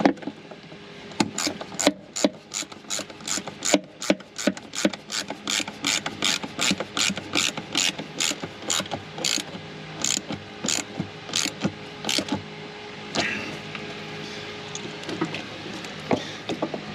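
A ratchet wrench tightens a bracket on a 2009 Toyota Hilux during servicing, a long run of sharp, rapid clicks in steady bursts, close and clear with no talking.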